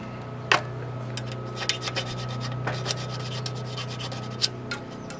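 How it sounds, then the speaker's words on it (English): A small flat file rubs over the metal fence of an Evolution Rage 4 chop saw, producing soft, faint scraping strokes over a steady background hum, with a few sharper ticks. "we can use a little flat file. Just smooth it off a teeny bit."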